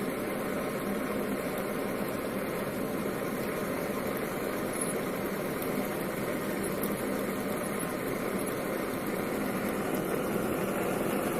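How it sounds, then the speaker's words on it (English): A propane-powered Stirling engine runs steadily, giving a continuous low, even hum with a faint vibrating buzz that holds at the same level throughout, with no voices. "This engine can run all day just on propane."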